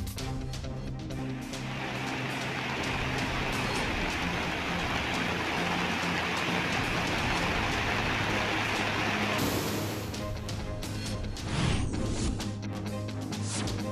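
Heavy rain falls in Kerala's Malappuram and Kannur districts, a dense, steady hiss of downpour that holds throughout with a brief change in texture near the end.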